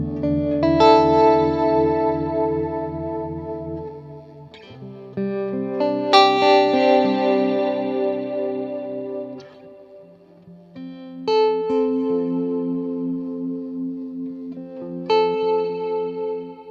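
Electric guitar runs through a Quenzel M3 effects unit with vintage harmonic tremolo, playing sustained chords and picked phrases that pulse and shimmer with reverb, heard loud and alone over several bars.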